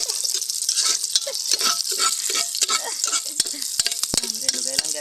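Garlic sizzling as it fries in a pan, with a steady hiss and crackle and occasional stirring scrapes and clinks of a utensil, close and loud with no talk.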